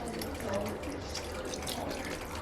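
Liquid pours steadily into a pot of seafood gumbo, a continuous close splashing and trickling that runs the whole time with faint background noise and no talk.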